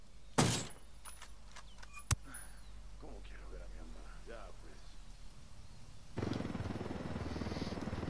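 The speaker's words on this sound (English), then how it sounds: "Enemy yeah, chopper." An enemy helicopter in the Ghost Recon video game, a steady rotor drone that swells and grows louder near the end after a couple of sharp thuds, with voices talking over it.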